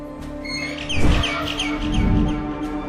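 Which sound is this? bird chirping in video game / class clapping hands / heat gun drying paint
bird chirping in video game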